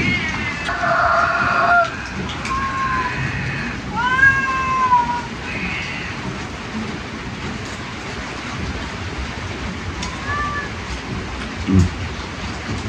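A pet cat meows several times at close range, drawn-out cries in a cluster early on, then spaced calls later, over a steady background of rain and wind.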